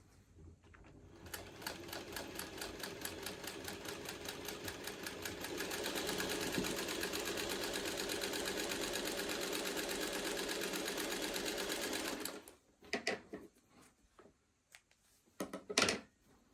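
A sewing machine stitches a quilt block in a fast rhythmic run lasting several seconds, then falls quiet except for a few short handling clicks and bumps.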